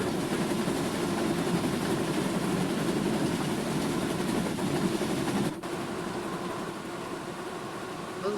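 A running tender engine from Thomas & Friends: Wonders of Sodor, heard from the very back of the train as a steady mechanical roar and rumble, with a brief clunk midway before it carries on slightly quieter.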